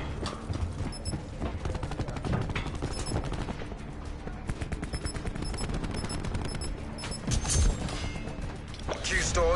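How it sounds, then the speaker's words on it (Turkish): Call of Duty 4 gunfire, dense rapid automatic bursts and single shots near and loud, continuing almost without pause alongside game effects and players talking. "Silah sesleri olmuş da"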